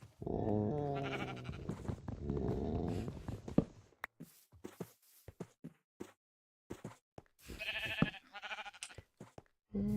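Sheep bleating in a farming video game, several wavering bleats in a row, then scattered short clicks and gaps, and a final burst of bleats near the end; no talking.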